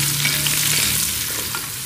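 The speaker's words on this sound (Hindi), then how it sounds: "और इसको भी थोड़ा कलर आने तक फ्राई कर लेंगे।" Sliced ginger and garlic fry with onions in a hot pan for a mutton curry, a steady, close, dense sizzle that continues without pause.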